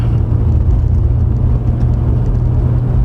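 A 1991 Mercedes-Benz W124 300D diesel cruises along a country road, giving a steady, loud low rumble of engine and road noise that never lets up, with no voices.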